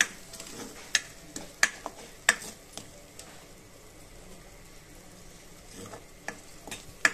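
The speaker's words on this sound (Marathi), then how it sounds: "छान हलवायची एकदम एकसारखी. छान होऊ देऊ मसाला आपण एकदम मंद आचेवर," Paneer butter masala base of onion and cashew sizzling gently in oil on a low flame, with a spoon stirring it and striking the pan in sharp, uneven taps over a quiet background.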